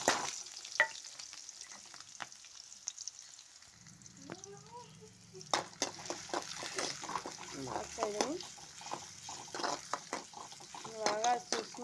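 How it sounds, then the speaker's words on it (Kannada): Spices for churmuri tempering crackle and sizzle in hot oil after a quiet start, with scraping stirs and sharp pops rising through the second half over a low steady hum. "ಒಗ್ಗರಣೆ ಹಾಕ್ತಾಯಿದ್ದೀನಿ"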